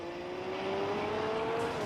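A Toyota Supra's engine drones steadily and loudly in the Wangan Midnight racing game, holding a sustained revving tone at speed without a break.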